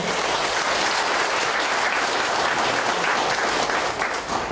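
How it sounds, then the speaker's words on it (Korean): Sustained applause from an audience at a Korean mayoral campaign rally, a dense and steady wash of clapping that holds loud for the whole stretch with no talk over it. "다시 한번 힘찬 박수 부탁드리겠습니다"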